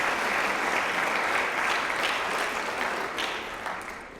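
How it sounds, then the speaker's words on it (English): Sustained crowd applause for a men's soccer team at a college athletics awards night, a steady loud wash of clapping that holds for several seconds and fades slightly at the end, with no talk over it. "One more round of applause for the men's soccer team"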